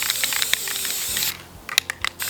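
Spray paint can misting lightly onto patio decor, a steady close hiss that cuts off, then a few short bursts and faint clicks.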